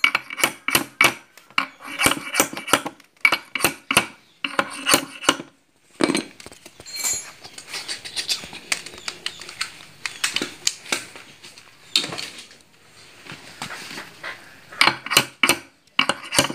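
A hammer strikes a steering bearing cup on a Honda RSX motorcycle, rapid clusters of sharp metallic taps interrupted by a scraping, rustling pause, close and fairly loud.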